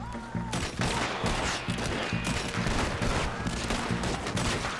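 Shootout gunfire in the video game Red Dead Redemption 2, rapid overlapping shots cracking continuously over a rhythmic low musical pulse, loud and dense throughout.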